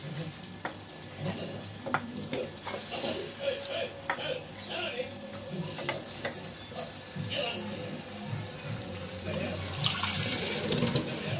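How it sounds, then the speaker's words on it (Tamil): Water poured into a pan of prawn gravy during home cooking, a running pour with splashing and faint sizzling under a woman's speech, growing steadier and louder toward the end. "உங்களுக்கு எந்த அளவுக்கு வந்து கிரேவி வேணுமோ அந்த அளவுக்கு வந்து தண்ணி ஊற்றிக்கோங்க"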